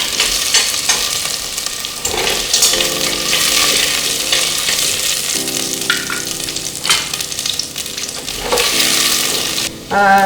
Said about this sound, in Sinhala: එහෙනම් වටේ බ්‍රවුන් වෙන්න හොඳට බැදගත්තාම ඇති